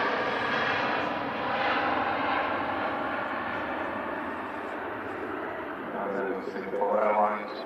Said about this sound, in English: Saudi Dreamliner, short final in from Jeddah, arriving after 6 hours, 9 minutes.